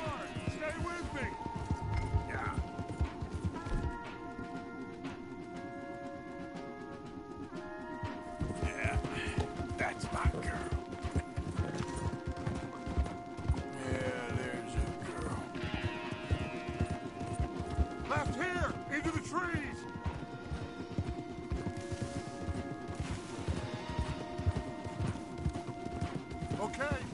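Horses gallop in a video game, a steady rapid clatter of hooves running throughout, mixed with a dense game soundtrack and voices talking over the ride.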